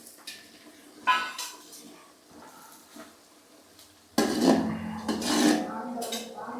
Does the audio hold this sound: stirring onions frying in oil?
yes